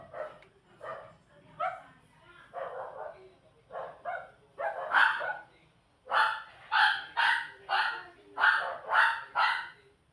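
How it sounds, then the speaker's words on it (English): A house dog barks in a lively series of sharp, yappy barks, a few spaced at first and then a faster, louder run of about ten, close by in a quiet room. "Sorry for my dog right now."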